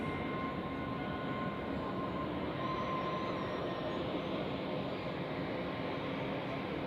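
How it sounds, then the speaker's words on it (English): An Airbus A220-100 airliner departs Zurich Airport in fog, heard as a steady distant jet roar with a faint tonal whine, holding a continuous even level with no speech. "A220-100 departing."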